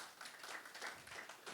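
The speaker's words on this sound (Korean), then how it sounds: "우리 하나님께 먼저 영광의 박수를 올려드립시다" A church congregation at a Korean youth worship service claps together, a dense, steady patter of many hands heard from a distance and fairly quiet, with no talk over it.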